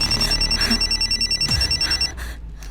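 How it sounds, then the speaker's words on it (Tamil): A phone rings with a rapid electronic trill in repeated pulsing bursts, loud and close, stopping after about two seconds as the call from a daughter comes in. "என் பொண்ணு ஃபோன் பண்றா."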